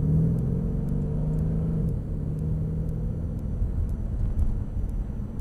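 A Mercedes E63 AMG Sport pulls away on a closed track at Mercedes-Benz World, a steady low engine rumble building at moderate speed with no talk over it.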